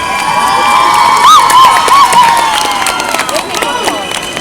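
A crowd at an outdoor town festival concert in Prachatice claps and cheers loudly and continuously, with shouts and whistles rising above the applause.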